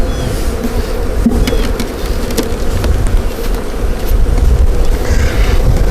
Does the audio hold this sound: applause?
no